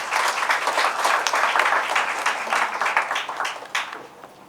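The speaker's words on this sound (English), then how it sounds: "I think they deserve another round of applause" An audience at a scholarship distribution event in Ghana gives a round of applause. Dense, steady clapping from a crowd rings out for several seconds, then begins to fade.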